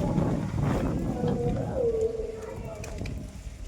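Gusty outdoor wind buffets the microphone beside a clay stove where fish curry is cooking, a steady rumbling rush throughout with a person talking over it.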